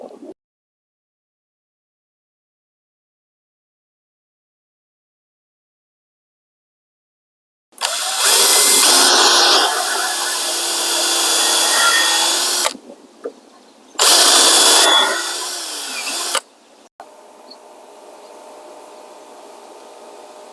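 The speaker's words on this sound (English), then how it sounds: "Now we're going to be screwing in a screw to attach it to the end piece right here." Power drill driving screws into the wooden frame of a table built from old, dry wood, heard close and loud in two sustained whirring bursts separated by a short pause, with no talking.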